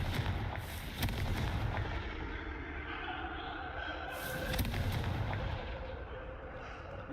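Fire-spell blasts from the Hogwarts Legacy video game, the Confringo curse, go off as two or three sharp booming explosions with crackling tails, fairly loud against a steady game background.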